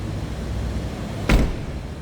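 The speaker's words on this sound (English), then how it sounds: "Door closes nicely." A 2004 Jeep Wrangler Unlimited door swings shut with a single solid thump partway through, close and brief, over a low steady background hum.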